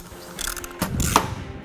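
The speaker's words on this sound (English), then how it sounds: "Install the provided bracket on each side of the light bar. Then install the nut. Tighten the nut down." A ratchet tightens a nut on a light bar bracket mounted to a Jeep Wrangler JK grille, giving a close run of quick clicking ratchet strokes.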